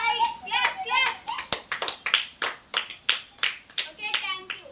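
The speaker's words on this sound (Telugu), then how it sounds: "claps claps claps claps" Applause at a singing show, a series of short sharp clapping bursts that rise and fade in an uneven rhythm, with a few voices mixed in.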